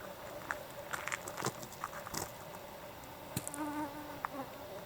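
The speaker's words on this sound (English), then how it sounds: "Mosquitoes have been horrible for us." Flying insects buzz around on a bright Alaskan summer night during a caribou hunt, mosquitoes among them, with several short whining passes coming close and fading over a faint outdoor background.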